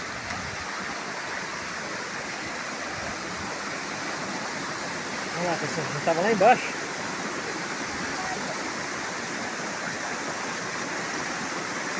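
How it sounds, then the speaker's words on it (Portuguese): Steady broadband rush of a hidden waterfall in the Itatinga region, constant and moderately loud throughout, with people talking over it and a brief louder splash or movement partway through. "É a cachoeira."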